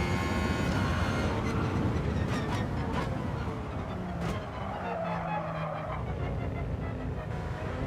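A race car in Gran Turismo 7 braking late, with a steady engine roar under drawn-out tire squeal and skidding, loud and continuous throughout.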